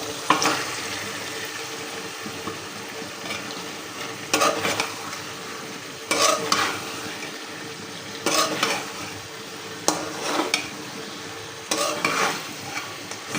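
Meat fries in a green chili masala paste, a steady sizzle broken by bursts of scraping and stirring against the pan every second or two, close by with no talking.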